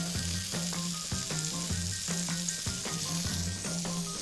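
Olive oil sizzles steadily in a pan of wine-based cooking, a constant close frying hiss overlaid with rhythmic clacks of a utensil stirring against the pan.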